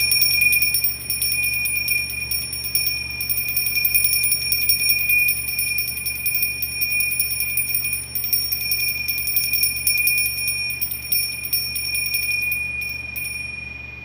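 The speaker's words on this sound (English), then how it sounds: "I'm going to go ahead and ring the bell." A bell rings with a sustained, bright metallic tone that hangs steadily throughout, loud and close with shimmering overtones and a low hum beneath, no voices.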